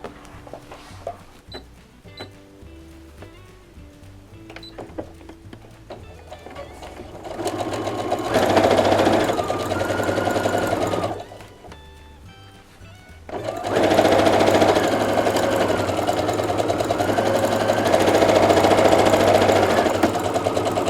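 A sewing machine stitches strips of fabric for a Seminole border on a dish towel, first in short, quieter runs, then in two long, loud, steady bursts of rapid needle whirring with a brief pause between.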